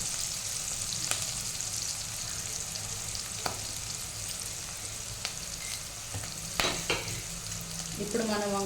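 Eggplant and potato curry frying in a pan, a steady close sizzle with occasional stirring scrapes and clicks throughout, no voices.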